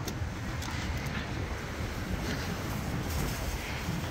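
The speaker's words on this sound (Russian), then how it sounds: "Ой, какой ветер сильный." Strong wind buffets outdoors in a continuous low, rushing roar, loud and close with no break, with no one speaking over it.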